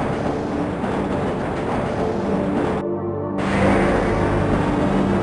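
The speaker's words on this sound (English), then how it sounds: "This train is inbound from Level 3 dormitories to Sector C test labs and control facilities." A Black Mesa tram from Half-Life rumbles steadily along its track, a continuous loud mechanical drone with a brief sharp dropout midway before the rolling noise returns slightly louder.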